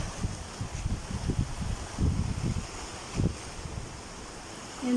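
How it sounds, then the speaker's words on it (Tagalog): Strong sea waves wash onto a beach amid wind, a low rumbling surge with irregular swells and steady buffeting wind noise on the microphone, fairly loud and with no talking. "Ang lakas-lakas ng dagat."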